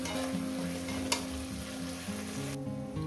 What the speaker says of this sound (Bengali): এক মিনিট একটু কষিয়ে নেব